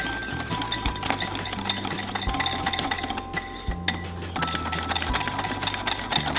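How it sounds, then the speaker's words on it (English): A whisk stirring powdered sugar, vanilla extract and other cake glaze ingredients in a bowl: a steady, busy scraping and tapping with small clinks, close and fairly quiet, briefly pausing midway. "Now I'm going to whisk these ingredients together."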